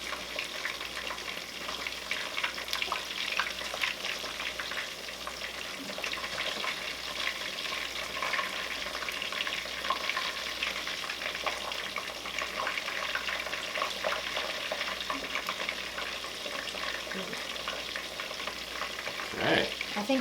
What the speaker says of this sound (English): Something about that sizzling and the smell.